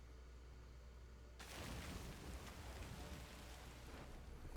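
Rain effect in the card game Gwent abruptly swells in, a dense steady hiss of falling rain that replaces a quieter low background and continues to the end.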